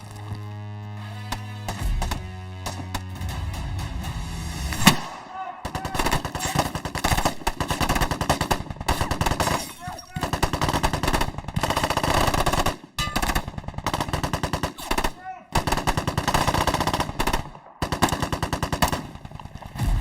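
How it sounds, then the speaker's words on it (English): Sustained automatic and rifle gunfire during a firefight, dense rapid bursts of loud close shots with brief pauses between volleys, no talk. "So, we take cover and return fire."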